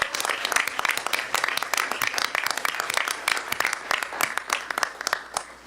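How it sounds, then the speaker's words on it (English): An audience at a Board of Education meeting claps, a dense spell of steady applause running continuously throughout and fairly loud in the room. "And I need to clap for that."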